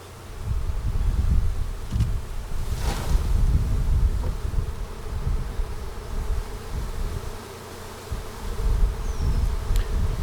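A swarm of honey bees being shaken from a butterfly net into a box gives off a dense, steady buzzing hum that lasts throughout, with a few brief rustling bumps over it and no talking.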